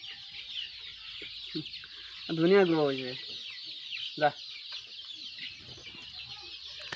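A local chicken gives a short warbling call and a couple of clucks over a constant high cheeping of month-old local chicks, with a brief voice speaking nearby.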